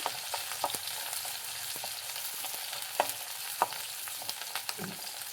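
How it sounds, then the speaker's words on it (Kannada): Onion and garlic frying in a pan for peanut chutney, a steady soft sizzle with occasional sharper pops and crackles and faint stirring scrapes, heard close and without talk. "ಸ್ವಲ್ಪ ಗೋಲ್ಡನ್ ಬ್ರೌನ್ ಬರೋವರೆಗೂ ಫ್ರೈ ಮಾಡಿ."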